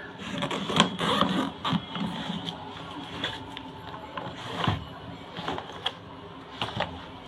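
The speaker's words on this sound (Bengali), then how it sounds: "কভারটা খুলে আপনাদের, চেনেরটা খুলে ভেতরের ক্যাপাসিটিটা কতটা জায়গা আছে সেটাও দেখিয়ে দিচ্ছি" A double zipper is drawn open around the cover of an Aristocrat cabin or medium trolley bag. It makes a close, uneven run of scratchy zipping bursts and clicks with short pauses between pulls.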